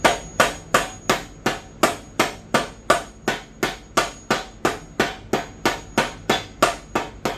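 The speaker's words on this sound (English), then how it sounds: "do not do this with a regular hammer. Use a rubber mallet." Rubber mallet striking a press-fit ATI Super Damper onto a HEMI crankshaft: about seventeen sharp, evenly spaced taps at a steady rhythm, close and loud, with no talking.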